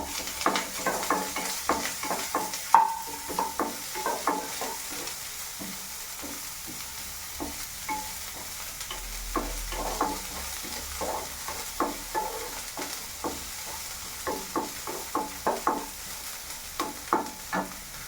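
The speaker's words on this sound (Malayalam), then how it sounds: "സവാള ചെറുതായിട്ട് ഇതുപോലെ അരിഞ്ഞെടുത്തത് ചേർത്ത് കൊടുക്കുക ഇതെല്ലാം നന്നായിട്ട് വഴറ്റിയെടുക്കുക" Chopped onions stirred and sautéed in a pan while cooking a Kerala okra and kanthari chili curry; steady light sizzling under repeated utensil scrapes and taps.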